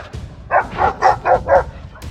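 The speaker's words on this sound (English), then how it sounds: "This is a brave dog, barking up a storm at a majestic lion locked behind the bars of a cage." Dog barking at a lion locked behind the bars of a cage, giving five quick, evenly spaced, loud barks in a row, close by.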